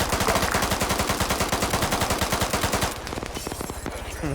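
Rapid sustained automatic gunfire from a military video game, loud and continuous bursts that thin out toward the end, with no talk.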